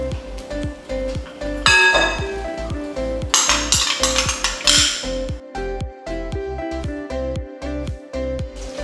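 A spoon stirs sugar and curd in a bowl for an eggless cupcake batter, striking and scraping the sides in a steady rhythmic clinking, loud and close, with a brief busier flurry in the middle and no talking.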